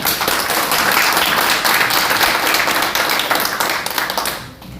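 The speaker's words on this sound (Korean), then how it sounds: "박수로 부탁드립니다" Audience applause at a founding meeting in Japan before a lecture by a former prime minister, with many hands clapping in a dense, lively patter that fades out toward the end.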